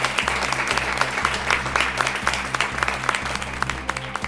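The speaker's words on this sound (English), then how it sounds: "Clap for him" An audience at a school spelling contest claps steadily after a correct answer. The applause is full and continuous, with a low rhythmic thump running beneath it.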